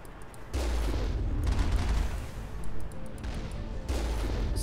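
Gunfire in the Mass Effect video game arrives as a few heavy, booming bursts with rumbling low end and short gaps between them, fairly loud against a dull background.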